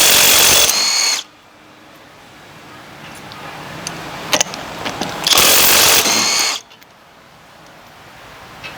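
A budget cordless impact wrench rattles hard in two loud bursts, each about a second long, while removing a car's lug nuts. The bursts are heard up close with a quiet pause and a few faint clicks between them.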